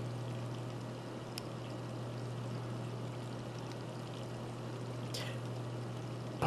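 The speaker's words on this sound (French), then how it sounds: "faire couler l'eau du robinet pendant que tu dors" Tap water runs steadily in the Resident Evil 3 video game, a continuous gushing pour over a low electrical hum, with a couple of faint clicks and a brief knock near the end.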